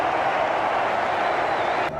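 Big crowd at Eden Park in Auckland during a Pakistan cricket match, a loud, steady roar of cheering and applause that fills the space, then drops off sharply near the end.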